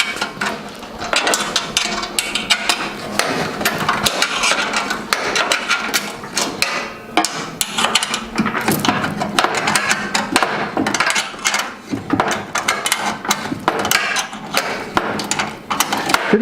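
Wrench work on the bolts of a Davy Crockett fuel hopper, with steady ratcheting clicks and metallic clanks repeating close by for the whole stretch.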